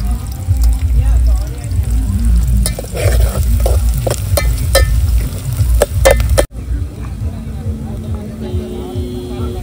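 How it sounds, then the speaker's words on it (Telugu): Onions frying in hot oil while chicken fry is cooked: a loud, close sizzle with scraping and stirring clatter throughout, a brief cut partway through, then continued steady frying. "ఆనియన్ అయితే మంచిగా ఫ్రై అవుతుంది."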